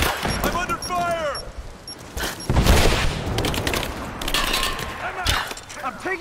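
Gunfire in the video game Rise of the Tomb Raider, with bursts of rapid shots and booming impacts through a chaotic firefight, mixed with shouting voices and clattering effects.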